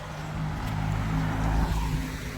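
A car drives past on a calm road in Praslin, Seychelles, its engine hum and tyre noise building to a peak mid-pass before easing, loud and close with no other sounds.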